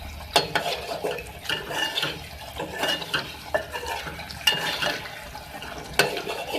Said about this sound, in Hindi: इसको हम भूनेंगे, अच्छे से भूनना है आपको